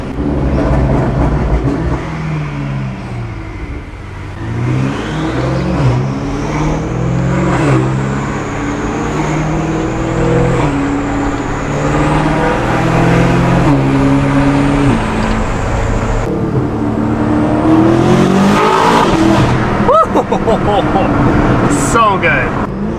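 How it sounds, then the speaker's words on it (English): A BMW F90 M5 fitted with a full titanium exhaust and free-flow downpipes revs hard, its loud engine note climbing and holding high, with sharp crackling bursts near the end. "Listen to the crack."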